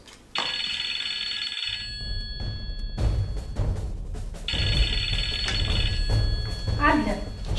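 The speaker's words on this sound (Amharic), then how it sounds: "ሂጂ አንቺ ስልኩን አንሺው" An old-style telephone bell rings in bursts indoors, two clear trilling rings separated by a pause, with people talking over and between them.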